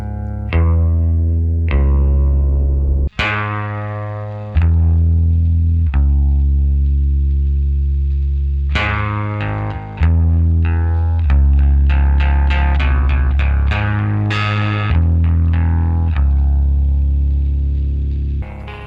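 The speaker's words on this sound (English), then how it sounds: "So the more you turn up the master volume, the more asymmetrical clipping you're gonna get." A distorted electric guitar plays through a Fender Quad Reverb amp running on one power tube, cranked for asymmetrical clipping; loud, sustained fuzzy chords and notes ring out one after another, ending in a faster run of picked notes.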